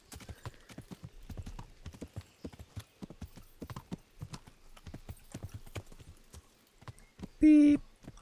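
Horse hooves clip-clop in a steady rhythm in a medieval-themed video game, the clattering hoofbeats running throughout under intermittent game sounds, with a louder burst near the end.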